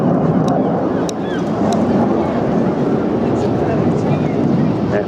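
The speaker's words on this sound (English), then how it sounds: "Aircraft descending down now from our right-hand side, rolling out." Red Arrows display jets at an air show, heard as a steady, loud, broad jet roar through wind noise as they fly past, with a commentator talking over it.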